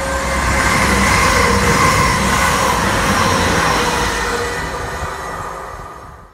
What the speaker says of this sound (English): This is a class 222 Meridian.